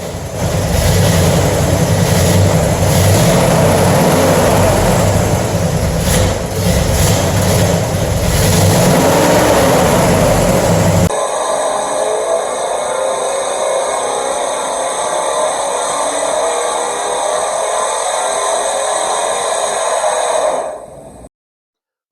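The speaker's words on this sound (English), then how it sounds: "Here's a short before and after clip with the engine running." A rebuilt Pontiac 389 GTO V8 engine running, heard in two takes: first a loud rough mechanical roar, then after a cut a smoother, steadier idle with a whining hum, ending abruptly.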